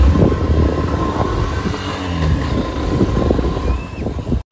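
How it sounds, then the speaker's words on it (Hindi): Motorbike ride with a steady engine drone and wind rush buffeting the microphone, loud and continuous until an abrupt cutoff at the end. "तो हम जा रहे हैं बाइक में।"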